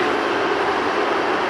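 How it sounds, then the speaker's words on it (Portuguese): A CPTM series 2500 commuter train at the Guarulhos airport station on Line 13 Jade, a steady, loud rushing rumble of the train moving past, with no voices. "Esse é o trem da série 2500."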